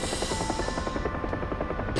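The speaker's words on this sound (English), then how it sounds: "It's my favorite helicopter in DCS." A helicopter's rotor thumps steadily over a constant turbine whine in the flight simulator DCS, loud and close throughout without a break.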